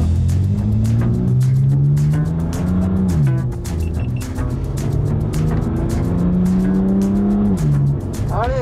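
A race car drives hard around a circuit while racing an Alpine, its engine droning loud and close with rising and falling pitch as it shifts through gears, steady and continuous with no talk.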